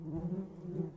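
Bees buzz in the Minecraft Pixelmon game, a steady, droning insect hum of moderate loudness that holds for the whole moment without talk.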